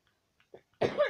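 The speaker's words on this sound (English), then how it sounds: "I'm sorry if you hear me cough." A person with a mild illness gives a single short, harsh cough, preceded by a few faint breathy throat sounds.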